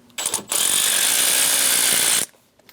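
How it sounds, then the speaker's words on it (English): A power tool spinning a 7mm socket to remove a connector bolt on a 2003-2025 Chevrolet Express 2500, heard as a short ratcheting burst and then a steady high whir lasting about two seconds, close up, with no talking. "Using a 7mm socket, we're going to remove the bolt for our connector."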